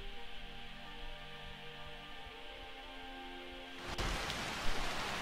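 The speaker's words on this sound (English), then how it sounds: "Oh, it's raining in here." Rain falling in Skyrim with a sound mod, a steady soft hiss layered with low tones that swells into denser, brighter rainfall near the end.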